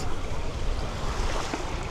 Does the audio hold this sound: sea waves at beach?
yes